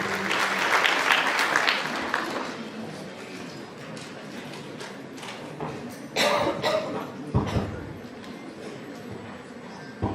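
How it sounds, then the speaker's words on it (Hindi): A university audience at a Republic Day function applauds loudly for an honoured guest. The clapping is strongest at the start and slowly fades into scattered claps, with a short rise again partway through. "एक बार जोरदार तालियां हो जाए हमारे सर के लिए।"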